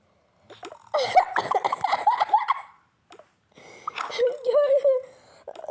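A young girl coughs in short fits amid laughter and excited chatter, close to the mic, with bursts of coughing and giggling in two clusters.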